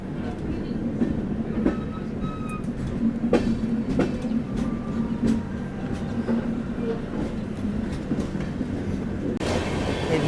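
Bandra–Jamnagar Hamsafar Express train rolls steadily on the rails, a continuous loud rumble with faint clicks and scattered squeaks from inside the coach, with voices murmuring faintly.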